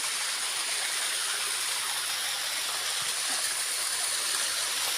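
Steady, full-bodied rush of a waterfall heard nearby, a continuous broadband roar of falling water with no talking.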